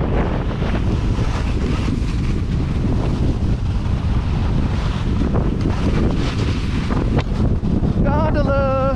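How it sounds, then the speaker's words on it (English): Strong mountain wind at the Steamboat Springs ski area batters the microphone near the gondola, a loud, unbroken roar of gusts from start to finish, with a brief whining tone creeping in near the end. "Ooh, a little windy."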